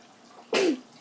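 A single sharp sneeze, close and fairly loud, bursting out in a quiet room during a home snack of homemade gummy bears, with no talk over it.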